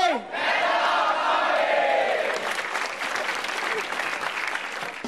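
A studio audience at a stand-up comedy show applauds a comedian, dense sustained clapping mixed with crowd cheers and shouts that stays loud throughout before easing slightly at the end.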